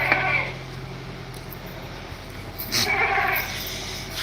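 Sheep and goats bleating in an enclosure in a smoky, stubble-burning area, two short calls, one at the start and a louder one near three seconds, over a steady low hum and background noise.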